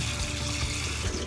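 Tap water runs steadily into a sink while a sweet potato is washed and brushed in a kitchen, close and continuous with no voices.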